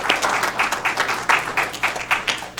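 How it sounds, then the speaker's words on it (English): A round of applause fills a city council chamber during a regular meeting, steady dense clapping from a seated audience with uneven bursts, fairly close and sustained throughout. "So let's give them a big round of applause for really leading this effort."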